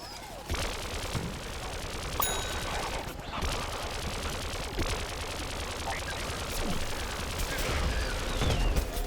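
Dense rapid gunfire from PvZ Garden Warfare, with bursts of automatic fire and blasts running continuously and loud across the scene, mixed with game effects, while a player talks over the action.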